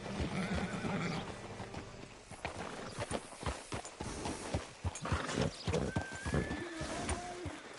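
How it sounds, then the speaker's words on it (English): Horse in Red Dead Redemption 2 gives a loud, rising neigh amid steady hoof clip-clops and shuffling steps, with faint talk in the background. "Hitch your horse up here."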